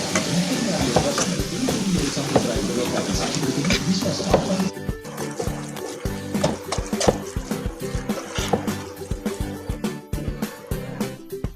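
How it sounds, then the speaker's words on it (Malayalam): Tomatoes go into a hot frying pan and are stirred, giving a continuous close sizzle with frequent scraping and clattering strokes of the spoon that carry on throughout. "ഇതിലേക്ക് തക്കാളി ഇട്ട് കൊടുക്കുകയാണ്."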